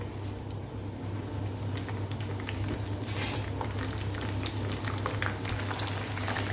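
Onions sizzle and crackle steadily in hot oil, a constant frying hiss with small pops, close and moderately loud.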